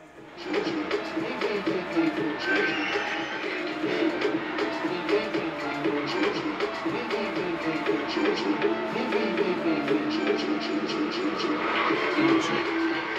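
A race car in Gran Turismo 7 drives continuously, its engine droning and shifting with tyre noise throughout, with someone talking over it in places.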